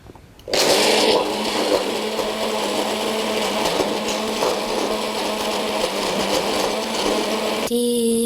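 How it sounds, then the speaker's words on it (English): A kitchen blender runs steadily while mixing nut butter, starting abruptly and holding a loud, constant whir with the lid shut, then cutting off near the end. "Add that, shut the blender on the top, and all you do is whisk"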